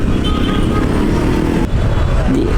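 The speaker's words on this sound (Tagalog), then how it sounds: "Traffic naman ito." Road traffic on the drive from Pasay to Manila makes a dense, continuous wash of car and engine noise, steady and close throughout with no clear pauses.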